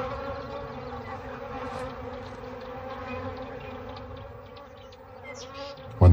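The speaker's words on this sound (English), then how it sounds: "lions have few defenses against bees" A swarm of bees hums around lions in the wild, a continuous droning buzz that holds steady and fairly close throughout, with a brief louder rustle at the very end.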